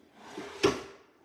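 A drawer slides open with a soft rumble and ends in a single sharp knock, close and fairly loud, heard alone.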